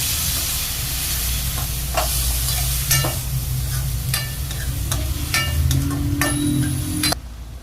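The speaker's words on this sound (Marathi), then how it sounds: "चणाडाळ ते पण टाकून घेऊया आणि छान असं परतून घेऊया" Soaked chana dal is stir-fried in a pan with bottle gourd, giving a continuous close sizzle and hiss with repeated scraping and clinking strokes of a spoon against the pan.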